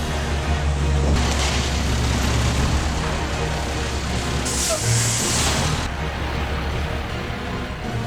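On a runway in Alaska, a Surion helicopter's engine starts for its first test, producing a loud, continuous rumbling roar with broad hissing turbine noise that swells and eases.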